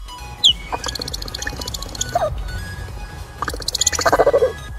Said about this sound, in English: The vocalization of a cheetah.